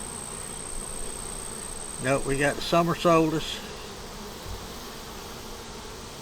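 Honey bees hum around a hive in a faint, continuous buzz that carries on while someone talks briefly in the middle.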